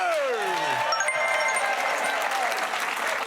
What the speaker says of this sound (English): keep the applause going for Team 2